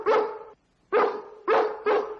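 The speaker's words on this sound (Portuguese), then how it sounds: "O latido ao luar." Dalmatians and other film dogs bark in a night-time howling chain, four loud close barks separated by short gaps, the first drawn out and the last two coming quickly together.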